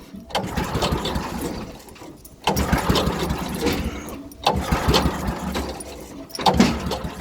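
Repeated pull-start attempts on a 7 hp Toro 7/26 snowblower engine from its first production year, three rough cranking bursts with short gaps between them, close up, with no talking over them.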